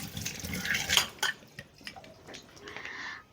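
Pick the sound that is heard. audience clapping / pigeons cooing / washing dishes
washing dishes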